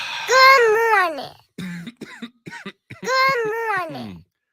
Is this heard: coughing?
yes